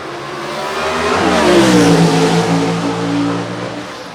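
A gasser drag race car launches on a mountain dragstrip, its engine rising to a loud roaring rev with rich harmonic howl, peaking and then easing as the car pulls away, with no talk over it.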